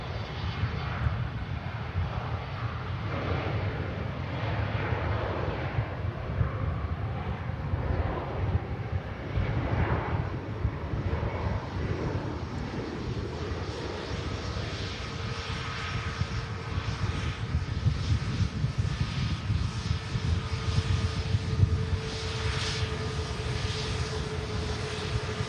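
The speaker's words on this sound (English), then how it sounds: "the Scandinavian Embraer commences the departure roll" A Scandinavian Embraer jet rolls down the runway on departure, its engines a steady, broad roar that holds throughout, with some wind buffeting the microphone.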